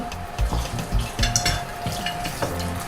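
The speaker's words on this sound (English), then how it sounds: "So what I'm going to do now, I'm putting onions first and salt" Onions and salt frying in a pot for pepper soup, a close, continuous sizzle broken by several clattering stirs and utensil knocks against the pot, with no talk.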